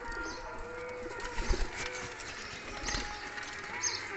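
Pigeons in a loft give soft, intermittent coos and low burbling calls at moderate distance, with faint rustling and background noise between them.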